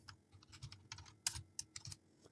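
Soft, close clicking of keys on a computer keyboard as someone types an HTML stylesheet link, a quick irregular run of taps with no voice.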